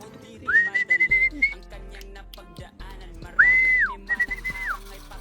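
Someone whistles to call pigeons in short rising-and-falling calls, two bursts separated by a pause, with clicks and rustling around them.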